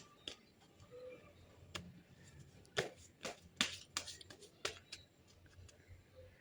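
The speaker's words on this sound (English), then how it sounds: "So let's shuffle the cards first" Soft, close riffling and snapping of tarot cards being shuffled in several quick bursts, quiet and with no talking.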